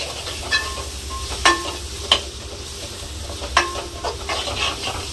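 Ginger garlic paste sautéing in a pan for chicken curry, a soft hiss under a few sharp clinks and scrapes of a spoon spaced a second or so apart, near and with no voice.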